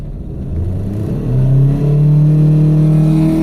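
A Mitsubishi Lancer GLXi with a rough, abnormal idle and engine trouble revs hard toward about 5,000 RPM, its close, loud drone climbing steadily in pitch and holding high with no talking.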